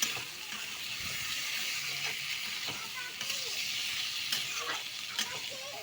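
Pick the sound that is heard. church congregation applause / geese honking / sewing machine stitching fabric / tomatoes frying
tomatoes frying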